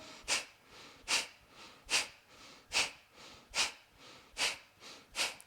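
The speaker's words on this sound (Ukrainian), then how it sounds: "коли робите видих різко через ніс" Eight sharp, forceful exhales through the nose during a breathing exercise, evenly spaced about every second, close and fairly quiet, with no talking between them.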